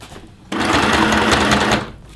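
A sewing machine runs a straight stitch through thick layers of a fabric clutch bag, a loud, even mechanical whir lasting just over a second before it stops.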